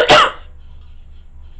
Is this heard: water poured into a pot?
no